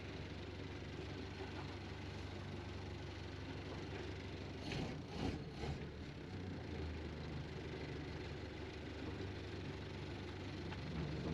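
A restored 1930 Ford Model A Tudor sedan with a 201 CI inline-four engine idles in a steady, even low drone, with a brief bump partway through.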